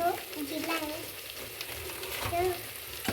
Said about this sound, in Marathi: बिर्याणी मसाला टाकल्यानंतर आपल्याला थोडंसं असं मिश्रण असं हलवून घ्यायचं